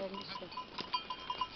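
A mixed herd of goats bleats faintly in the distance with a few short calls, and light tinkling bell-like tones repeat underneath.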